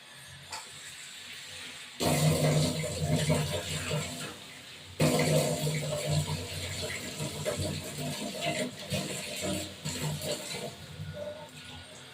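Tap water gushes loudly into a vessel while prawns are rinsed in a home kitchen, running in two long bursts with sloshing and handling noise after a quiet start.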